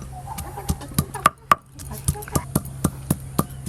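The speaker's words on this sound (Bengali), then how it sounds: "আদা রসুন একসঙ্গে বেটে নেবো।" Ginger and garlic being pounded together into paste in a home kitchen, a dozen sharp rhythmic strikes at a steady pace, fairly close, with a brief pause midway.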